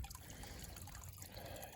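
Water from a box spring near the top of High Top Mountain in Shenandoah trickles and dribbles steadily, a faint, continuous close-up flow with no voices.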